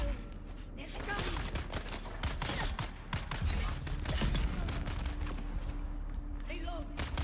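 Rapid bursts of gunfire in the Dune Awakening video game, dense repeated shots fairly loud over continuous game noise, with a voice talking underneath.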